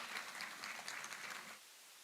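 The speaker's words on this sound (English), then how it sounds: "A big round of applause, my friends, once again for Shri Siddharth Kagji." Audience at a national media and journalism conference applauds briefly and faintly, a dense patter of clapping that cuts off and fades into quiet room tone.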